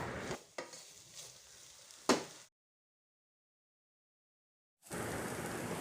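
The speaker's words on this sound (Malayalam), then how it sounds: "നല്ല പോലെ ഒന്ന് വഴറ്റി കൊടുക്കുകയാണ്" Onions and carrot cubes sauté in a pan for palappam, giving brief scraping stir noises and sizzle for about two seconds, then near silence, then a steady loud frying hiss returns.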